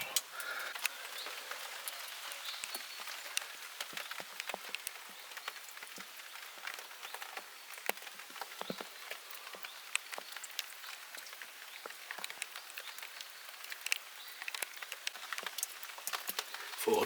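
Steady rain pours down on a forest, a dense patter of drops on leaves and ground with scattered louder taps, continuous and fairly soft throughout, no voices.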